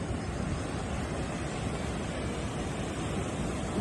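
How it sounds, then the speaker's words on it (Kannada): Ocean surf on a Kerala beach makes a dense, steady roar of breaking waves, loud and close, with wind rushing over it and no talking. "ಬೀಚ್ ಅಲೆಗಳ ಸೌಂಡ್ ಕೇಳ್ತಾ ಇದ್ರೆ ಭಯ ಆಗ್ತದೆ ನನಗೆ."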